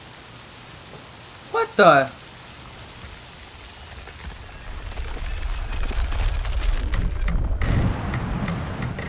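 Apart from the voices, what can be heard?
rain in video game Sifu with Batman mod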